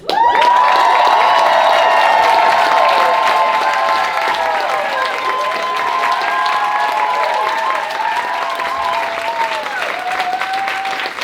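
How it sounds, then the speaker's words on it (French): A cabaret audience applauds a performer at a revue, with dense, sustained clapping mixed with cheers and whistles, loud and close throughout the eleven seconds and easing slightly toward the end. "Alors, je demanderais d'applaudir, s'il vous plaît,"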